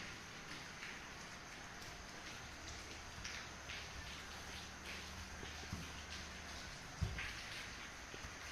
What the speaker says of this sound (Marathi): मी तुम्हाला आता पाऊस दाखवतो आमच्याकडे पडेला